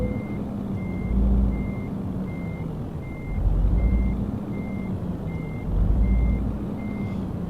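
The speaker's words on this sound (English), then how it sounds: "we can certainly hear the engine noise" A truck's engine in Euro Truck Simulator 2, heard from outside the cab: a steady low rumble that swells roughly every few seconds, with a regular high reversing beep repeating throughout.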